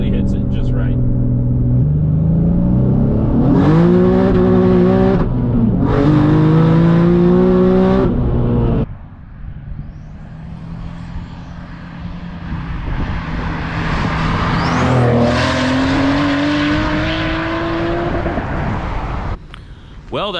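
An 800 whp Nissan 370Z Nismo street car pulls through the gears, its engine note rising in repeated revving sweeps with shift breaks, then steady driving drone, loud and close, with a voice talking over parts.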